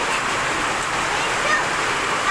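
Heavy rain pours down during a storm in Gazipur, a dense, steady broadband hiss that stays loud and even throughout with no let-up.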